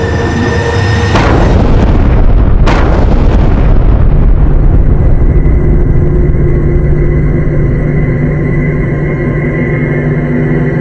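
Huge blast of gunpowder buried in the ground, a loud close eruption that bursts in around the first seconds with a second sharp crack, then settles into a long, dense, roaring rumble that fills the rest, with no voices.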